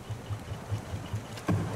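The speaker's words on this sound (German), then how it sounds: "Kannst du den Motor mal kurz rückwärts laufen lassen?" Boat engine on a raft in the survival video game Raft, running in reverse: a low, steady motor hum with a rhythmic pulsing chug, moderately quiet, with a brief louder clatter near the end.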